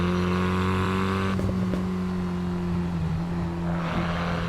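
Engine of a light little race car in Assetto Corsa Evo, a steady buzzing drone that rises and shifts pitch as it revs and changes gear, loud and close with no talk.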